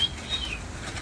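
A brief, soft flutter of a hawk's wings flapping nearby, lasting about a second with no voices.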